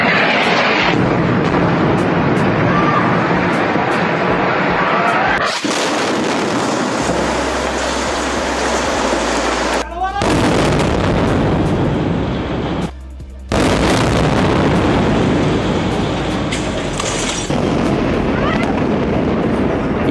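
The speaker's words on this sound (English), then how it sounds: "warplanes have unleashed a torrent of bombs hitting targets in Gaza" Bomb blasts from Israeli airstrikes on Gaza, loud deep booms that break into long rumbling roars, cut apart by a few abrupt gaps, with no voices over them.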